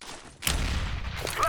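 A grenade bursts in Counter-Strike during an ELEAGUE Major match, a sudden broadband blast that leaves a sustained, loud rumbling roar for about a second.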